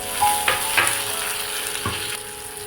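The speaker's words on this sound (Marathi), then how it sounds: "आपण टमॅटो भाजून घ्यायला" Tomatoes and garlic roasting for a Maharashtrian eggplant bharit give a steady close crackling sizzle, broken by a few sharp pops and clicks, with no voices.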